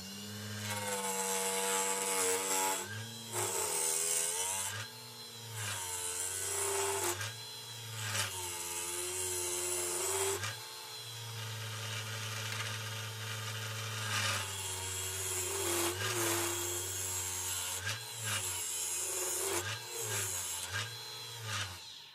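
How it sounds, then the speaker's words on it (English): A wood lathe roughs out the outside of a figured maple vase blank. The motor hums steadily while the gouge scrapes and rasps in short passes that stop and restart every few seconds. "We're gonna rough it out on the outside, get the bottom turned"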